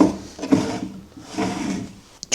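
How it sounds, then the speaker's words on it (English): Stuck wooden dresser drawers in an abandoned mansion bedroom are tugged, giving a few scraping, rubbing wood pulls and a sharp knock near the end, close and fairly loud. "Drawers are just shut, stuck."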